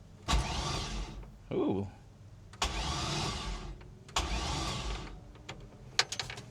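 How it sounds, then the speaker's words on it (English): A car engine without spark plugs is cranked by the starter in several separate bursts, each a whirring spin of a few seconds with quiet gaps between, and a brief voice exclaims once. "Cool, the motor cranks."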